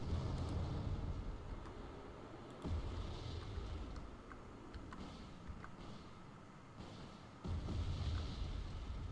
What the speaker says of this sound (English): We're going to suffer that withering artillery barrage.